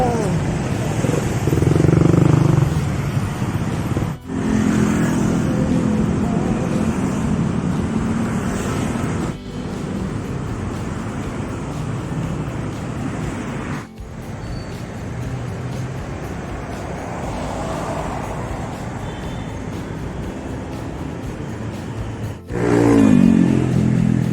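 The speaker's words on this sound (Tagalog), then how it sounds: "traffic sa EDSA" Heavy road traffic on EDSA rumbles continuously with engines and passing vehicles, including motorcycle revs. A person talks over the traffic, and there are a few abrupt cuts between segments.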